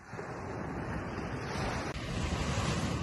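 Continuous wash of ocean surf with wind noise over it, a steady broad roar that holds for a few seconds.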